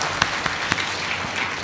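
An audience welcoming an Ayurvedic doctor claps together in a brief burst, a broad rushing applause with a few sharper individual claps standing out, close and fairly loud.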